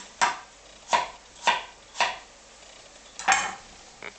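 A knife chops pomfret firmly on a cutting board into even 5mm dice, five or six evenly spaced strokes in a steady rhythm, close and clear.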